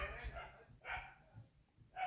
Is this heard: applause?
no